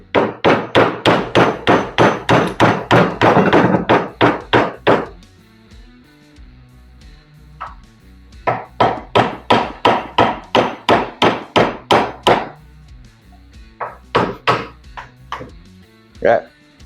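Rapid, loud hammer blows striking a rusty 39mm motorcycle fork tube in fast bursts, with a few pauses between runs of strikes, close up.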